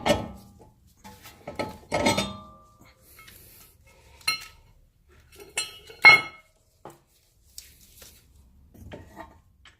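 A brake rotor is being pulled off an Infiniti G20 during a big brake caliper test fit, giving sporadic close metallic clinks and clanks with quiet gaps between them.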